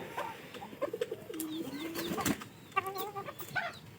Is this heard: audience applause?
no